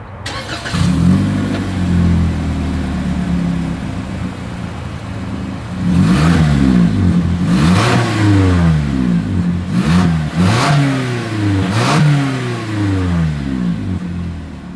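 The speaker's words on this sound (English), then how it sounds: "As always, here is that exhaust clip." Exhaust of a 2025 Toyota Corolla being revved: the engine idles, then several sharp revs rise and fall in quick succession, loud and close, with no talk.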